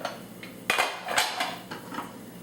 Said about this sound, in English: I'm going to put it on a plate for you